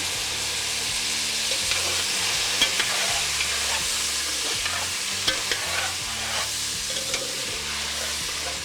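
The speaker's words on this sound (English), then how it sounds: "I'm gonna go ahead and add my sausage in now and start browning that." Sausage browning in a pan alongside turkey, giving a steady close sizzle and frying hiss with occasional stirring scrapes throughout, no talk.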